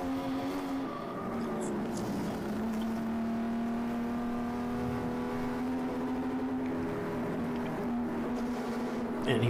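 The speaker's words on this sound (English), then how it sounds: "he takes that Porsche back up onto the banks here at Charlotte, onto the oval" A Porsche race car laps the steep banking of the Charlotte oval, its engine a steady, sustained high drone with slight pitch shifts, close and continuous, with no speech.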